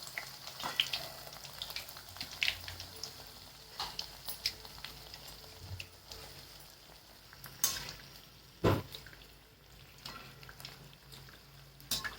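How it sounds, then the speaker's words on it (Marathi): Sweet puris frying in hot oil until reddish, a soft, steady sizzle and crackle, fairly faint, with a few sharper pops and clinks scattered through. "अशा लाल होईपर्यंत अशा तळून घ्यायच्या छानपैकी"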